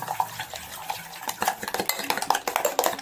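Eggs being beaten in a bowl for an omelette, with quick irregular clinks and taps of a utensil against the bowl, close and fairly quiet.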